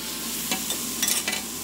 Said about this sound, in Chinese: 大量洋葱拌炒猪肉